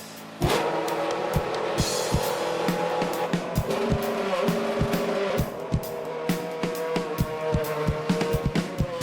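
A Formula 1 car on the formation lap before the 2012 Chinese Grand Prix revs loudly and continuously, with sharp engine bursts and squealing tires as it weaves to heat them, close and dominant throughout.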